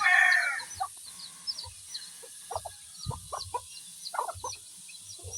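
Brooding hens cluck softly and intermittently close by in a coop, low short clucks scattered over a few seconds, with a louder rooster-like call at the start and faint birdsong behind.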